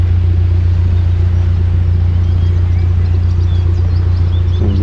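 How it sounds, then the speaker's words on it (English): A canal boat's engine runs in reverse gear to brake, a loud, steady low diesel rumble close by and unchanging throughout, with faint birdsong above it and no talk. "So we put the reverse gear on to brake it, so I don't want to lose my boat."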